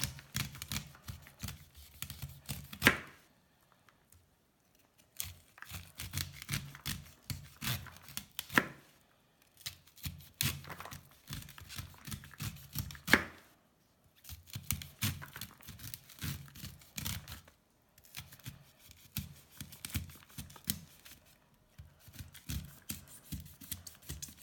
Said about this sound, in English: we're just cutting the corn off